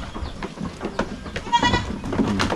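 Young male goats bleating on a farm, several close, loud calls rising over a busy mix of shuffling and other animal noise.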